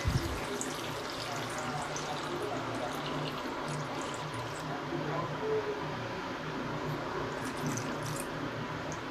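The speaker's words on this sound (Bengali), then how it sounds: "এবার আমি জল দিয়ে দেব বন্ধুরা দেখুন এই অবস্থায় আমি এবার জল দিয়ে দিলাম" Water poured into a pan of red amaranth stems as a steady, close-up wash of running and splashing liquid, lasting the whole stretch at an even level with no talking.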